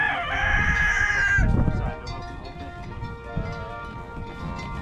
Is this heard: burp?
no